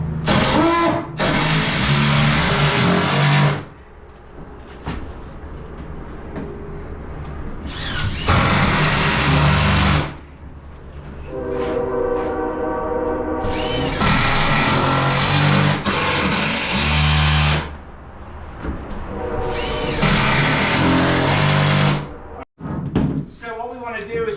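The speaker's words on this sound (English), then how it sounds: "we're going to go every stud with a screw." A power screwdriver drives screws into wooden studs while a shed storage loft is built, whirring in several long loud bursts of a few seconds each with brief pauses between them.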